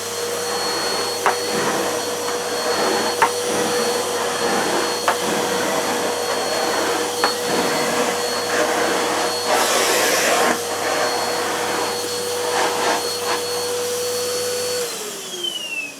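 A Numatic Henry Plus vacuum cleaner runs on carpet with a steady, close motor whine and airy rush, punctuated by faint bumps as the head moves, before the motor winds down at the end.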